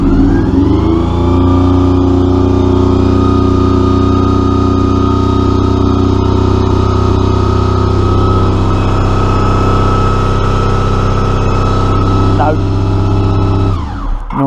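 A Honda VF motorcycle engine fires up and runs loud and steady close by for about thirteen seconds, holding an even drone before cutting off abruptly.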